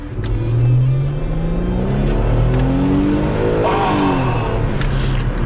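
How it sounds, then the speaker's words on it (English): An Aston Martin's twin-turbo V6 revs hard and pulls through rising gear tones, a loud, throaty mechanical roar close by that surges, dips, and climbs again. "We're going for a drive, Sergio. Yes. Twin turbo V6."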